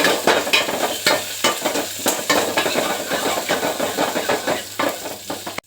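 Garlic, ginger and fennel seeds fry in a pan with a steady close sizzle, broken by repeated sharp scrapes and stirring clatters of a spoon against the metal, with no voices.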